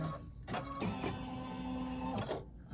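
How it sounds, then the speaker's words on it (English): Embroidery machine stitching a drawstring on a sweet treat bag, a steady mechanical whirring hum with clicking start and stop bursts, close and alone. "Now it's gonna stitch the drawstring."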